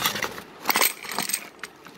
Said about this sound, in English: Please open the glass clamp.